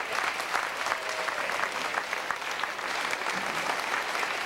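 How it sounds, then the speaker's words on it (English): A concert audience gives a sustained round of applause for the concert's sound recordist, a dense, steady wash of many hands clapping at an even level throughout. "let's give Mr. Arnold a round of applause"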